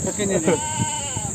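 A Barbari goat bleats in short wavering cries amid a busy crowd at an outdoor goat market in Faridkot, with people talking loudly around it.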